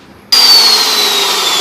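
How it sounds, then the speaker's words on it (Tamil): A power cutting machine starts abruptly and runs at a loud, steady high-pitched whine while making a 90-degree cut, heard up close with no talking. "இந்த மாதிரி 90 டிகிரி வந்து நம்ம வந்து கட் பண்ணுறதுக்கெலாம் ரொம்ப யூஸ்ஃபுல்லான ஒரு மிஷினுங்க இது"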